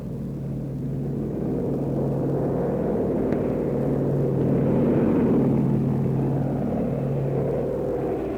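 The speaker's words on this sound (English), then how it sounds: "The tow ship moves off, and you and your glider are on your way." A World War II tow plane lifts off pulling a glider on a long nylon rope, a steady low droning engine rumble that holds evenly for several seconds and swells slightly midway, with no voices.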